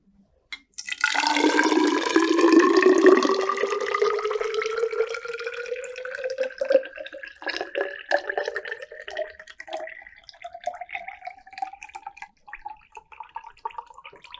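Water poured into a measuring vessel up to 250 milliliters in a school science density lab, a close, steady splashing stream whose pitch rises as the container fills, followed by softer trickles and drips.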